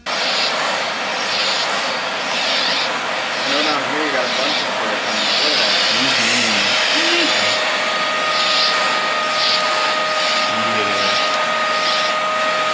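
A dog grooming vacuum's loud, steady motor whines and hisses continuously, with a rhythmic pulsing whoosh and a faint voice murmuring underneath.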